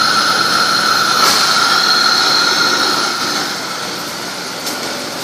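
Engine of a 2003 Chevrolet Monte Carlo SS running with noise from the airbox housing, a loud steady roar and whine with a rushing hiss that eases slightly in level toward the end.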